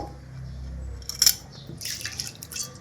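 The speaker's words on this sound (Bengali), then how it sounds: "এবার মুসুরির ডালটা দিয়ে দেবো" Red lentils (masoor dal) are poured into salted water in a pan, heard as a brief splashy patter and rattle after a quiet start, followed by lighter trickling and dripping, no talk.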